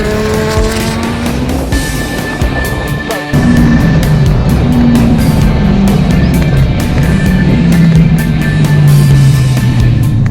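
A 7X Design Rayo twin-turbo supercar with a sequential race gearbox roars loudly down a short runway, its engine note climbing through gears with a brief cut at a shift, then rising again at full throttle.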